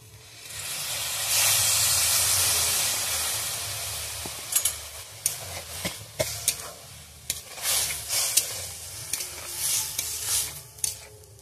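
Water splashed into a hot pan of kulekhara greens and potatoes gives a loud, close hiss of steam for a few seconds, followed by irregular scraping stir strokes and clinks over a lingering sizzle.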